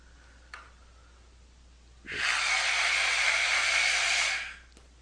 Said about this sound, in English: I take this funnel and the ping pong ball, and I am blowing.